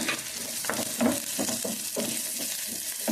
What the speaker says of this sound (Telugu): కాకరకాయ ముక్కలు కూడా వేసేసుకున్నాం. కొద్దిగా నూనెలో వేగాలి